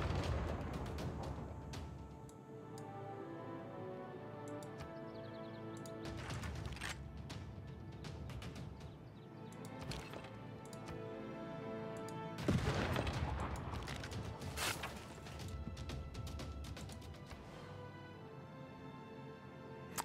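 Rapid bursts of gunfire from a unit attack in the strategy game Civilization 6 crackle in repeated volleys, with heavier impacts and mechanical clatter between them.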